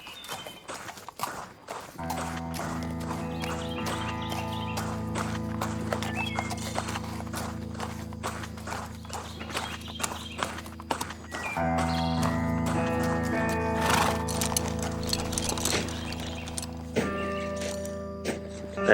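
Peaches the horse walks with a steady clip-clop of hooves beneath a loud layered musical backing, with no voices.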